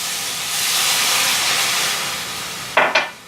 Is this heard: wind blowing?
no